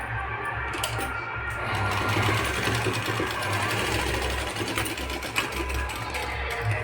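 A sewing machine stitches a puff sleeve, running with a steady, fast mechanical whir and rattle throughout, loud and close with no pause.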